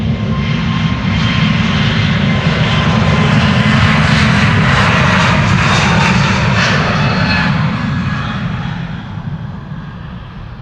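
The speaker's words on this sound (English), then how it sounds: "A321neo. Flight 2289 to New York JFK," A JetBlue Airbus A321neo jet departs Amsterdam Schiphol with a loud, sustained engine roar that builds, holds as it passes close by, then slowly fades into the distance.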